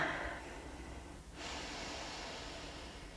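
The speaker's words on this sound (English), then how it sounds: "So take one last breath here." A single slow, deep breath taken during a yoga session, a soft close airy inhale and exhale that is quiet and steady.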